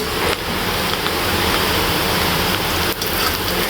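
Heavy rain pours steadily outside a home whose surroundings are flooding, a dense, continuous roar close by with no break and no voices.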